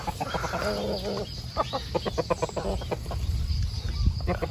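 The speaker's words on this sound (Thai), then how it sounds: "อันนี้ ไก่สายพม่านะครับ" Burmese chickens cluck in short, uneven bursts close by, with soft rustling and some outdoor background noise in between.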